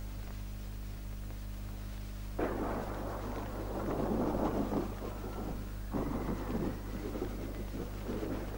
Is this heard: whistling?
no